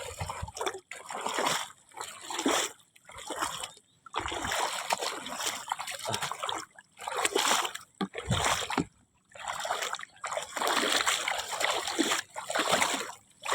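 Seawater surges and splashes near the shore in repeated bursts about a second or two apart, breaking into a fairly close, moderately loud outdoor scene, with pauses of near-quiet between the waves.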